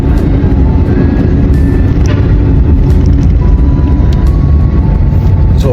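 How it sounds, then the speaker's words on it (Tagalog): Heavy road traffic in Fairview rumbles steadily from inside a vehicle, a loud, continuous low engine and road drone with faint passing tones and no voices. "Sobrang traffic guys"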